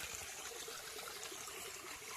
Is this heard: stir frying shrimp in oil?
no